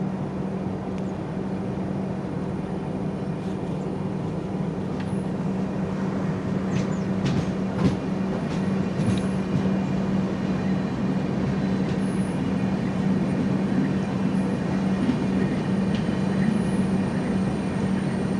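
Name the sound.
Venad Express train arriving at Piravom Road station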